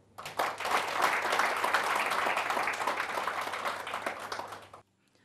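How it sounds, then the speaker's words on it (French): An audience at an event for Ivorian and African guests breaks into dense applause, a loud continuous burst of many hands that swells quickly, holds steady, then stops abruptly. "nous devons vous applaudir"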